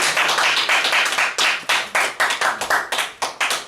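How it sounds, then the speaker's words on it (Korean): A Korean church congregation at Sunday worship claps in praise to God, starting as busy overlapping applause and settling into loud, rhythmic unison claps at a steady pulse near the end. "자 하나님께 영광 박수"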